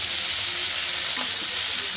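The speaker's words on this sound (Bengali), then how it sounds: "এখানে ফুলকপি আর পেঁয়াজ আর টমেটো আর ক্যাপসিকাম একসাথে ভাজা করছি" Cauliflower, onion, tomato and capsicum fry together in a pan, giving a loud, steady close-up sizzle with a constant hiss and no voices.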